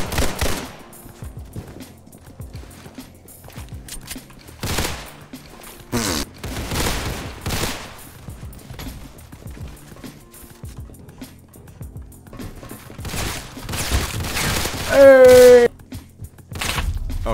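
Gunfire from an SKS rifle and other weapons in the Roblox game Criminality, sharp repeated shots in irregular bursts, with a player's voice talking over the action.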